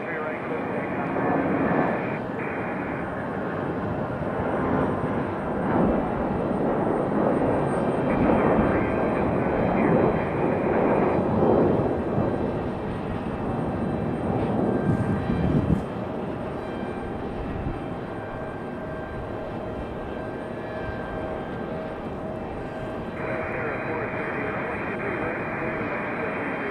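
A Delta jet airliner takes off from runway 23 right at Raleigh-Durham International, its engine roar building loud and broad, then easing off as it climbs away, with air traffic radio chatter heard alongside.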